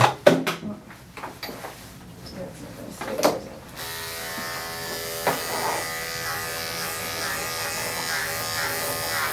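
Electric clippers buzz steadily while grooming a Cocker Spaniel, starting after a few seconds of clattering handling noises and running close and continuous to the end.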